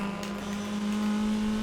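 A turbocharged Golf GTI engine drones steadily in the GRID 2 racing game, holding a constant pitch with a slight rise toward the end.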